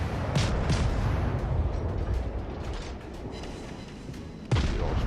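Naval gunfire in the World of Warships game during a Tier 4 Clemson destroyer battle, with dense rumbling cannon booms throughout and a sharp loud blast near the end, with no voices.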